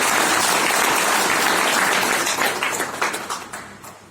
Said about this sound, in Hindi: तो एक जोरदार तालियां इनके पास होगी।